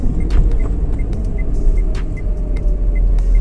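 A learner driver's car eases off the accelerator and slows by braking in city traffic, with a constant low road rumble inside the cabin and faint hisses from nearby vehicles.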